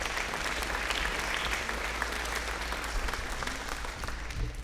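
A concert audience at a summer music camp finale applauds in a dense, steady wash of clapping that holds evenly from start to finish.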